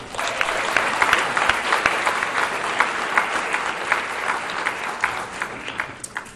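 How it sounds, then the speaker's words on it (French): A crowd in a church hall applauds the organizers of the Évangélique church's 40th anniversary party in Sarre-Union, sustained loud clapping that carries on for several seconds before gradually thinning out. "On peut les applaudir."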